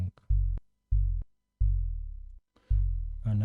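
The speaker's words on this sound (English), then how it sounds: "another sine wave and reducing the decay beat." Four deep synthesized sine-wave tom drum tones, each a low pure boom with a slow fading tail, spaced apart, with a brief noisy click and breath between some.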